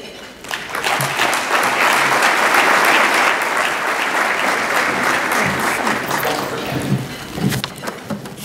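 A conference breakfast audience applauding as a state representative comes to the podium, loud sustained clapping from many hands that swells and then thins toward the end, with a few low voices under it.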